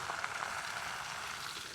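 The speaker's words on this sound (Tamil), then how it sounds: "கொஞ்சம் தான் போட்டு பொரிக்கலாம்." Raw jackfruit pieces frying in hot oil give a steady, faint sizzle that holds evenly throughout, with no talk over it.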